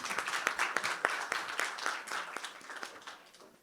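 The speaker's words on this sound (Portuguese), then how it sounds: "Palmas para a Fernanda." A smallish audience at a book fair claps for Fernanda, the individual hand claps audible as separate sharp hits within moderate applause that gradually fades.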